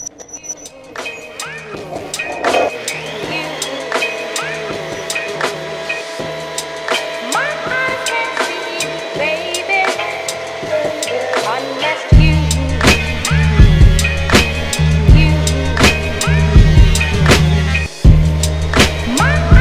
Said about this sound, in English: I'm going to run it through my thickness planer because it's rough sawn and I need to level everything out